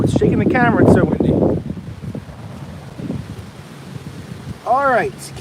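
Gusty wind blasts the microphone and shakes the camera outdoors at a beehive, a heavy low roar swelling and easing around brief speech.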